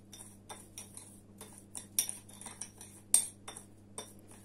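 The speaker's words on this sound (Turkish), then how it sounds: "Daha sonra bir tatlı kaşığı kadar da şekeri alıp zeytinyağın içerisinde karıştırıyoruz" A spoon stirring a dessert spoon of sugar into olive oil in a bowl, for a homemade hand peeling scrub, giving a run of quiet close clinks and scrapes of metal on the bowl in an uneven rhythm.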